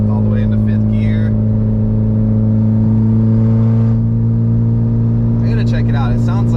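Car engine with a catless ETS exhaust and a suspected exhaust leak idles steadily with a loud, constant low drone, while someone talks briefly near the start and again near the end.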